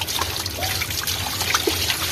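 Tap water trickles and splashes steadily while raw chicken is washed by hand, a close continuous running-water sound with small splashes and no talking.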